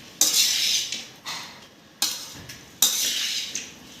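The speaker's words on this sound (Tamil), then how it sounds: "உப்பையும் போட்டுட்டு கொஞ்சம் நல்லா அப்படியே மிக்ஸ் பண்ணி விட்டுருங்க." Spoon scraping and stirring through rice with spice powder and salt in a metal vessel for tamarind rice, in repeated bursts of close, bright scraping with pauses between.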